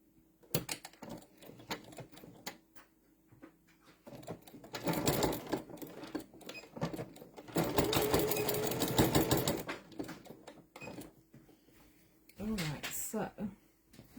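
A sewing machine runs in short bursts while stitching quilt binding, quiet and close, with a person talking between and over the stitching.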